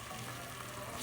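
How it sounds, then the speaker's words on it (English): A pan of cooking veal sizzles and fries steadily at a low, even level as cherry liquor is added to burn off the alcohol. "you want it to sizzle so that the alcohol burns off"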